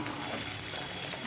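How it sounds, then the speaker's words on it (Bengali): Fish frying in a pan for a Bengali fish curry, a steady dense sizzle of hot oil with no pauses, moderately loud and close. "আর এদিকে তো মাছটা ভাজা হচ্ছেই"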